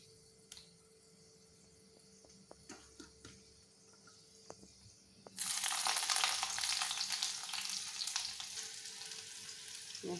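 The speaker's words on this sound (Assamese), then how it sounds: "মূলা শাকৰ ভাজি।" Radish greens hit a hot pan and break into a loud, steady sizzle partway through, after a quieter stretch of faint hum and scattered ticks in a home kitchen.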